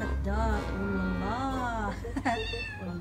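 A cat meows nearby in a long, drawn-out wail, followed by a second rising meow and a shorter cry, with a person talking over the calls.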